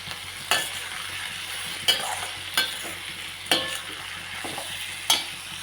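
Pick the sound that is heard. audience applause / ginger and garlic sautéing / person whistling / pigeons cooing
ginger and garlic sautéing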